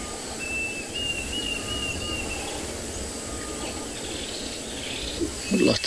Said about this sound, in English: Lots and lots of bird activity with all the termites from yesterday